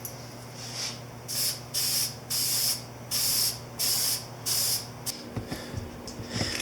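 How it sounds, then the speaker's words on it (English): Spray can applying a second coat of paint to the front disc brake of a Yamaha Virago XV250 bobber, six short hissing bursts in a regular rhythm over a low steady hum, then a few handling clatters. "here we go with the second coat on the disc brake."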